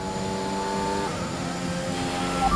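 A Formula 1 car in F1 2021 at the Canadian Grand Prix circuit, its high engine whine holding steady and then dropping in pitch as it shifts, heard on board at moderate volume.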